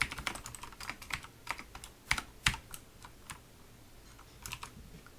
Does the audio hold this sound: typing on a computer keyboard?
yes